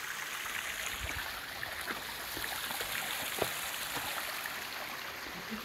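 A small waterfall stream flowing at Tınaztepe, a steady broadband rush of moving water, continuous and fairly close, with faint scattered knocks and no talk.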